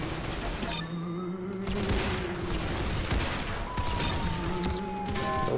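Rapid automatic gunfire from a BAR in Roblox Arsenal, dense repeated shots in a continuous burst amid game effects and background music.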